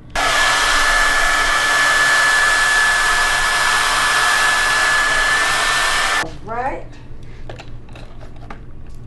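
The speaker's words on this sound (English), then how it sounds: "This is a blow dryer." A hair dryer fitted with a diffuser, drying curly hair during a barbershop cut, roars loudly and steadily for about six seconds then switches off, followed by quieter handling sounds and a brief spoken word.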